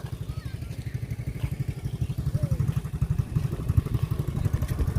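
A motorcycle ridden along the Mekong riverbank, its steady low engine putter pulsing rapidly and continuously at moderate distance, with faint chatter in the background.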